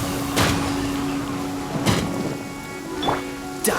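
Rain attack effect in Genshin Impact, a steady hiss of falling rain with a few sharp splashing impacts and a low rumble, loud and continuous.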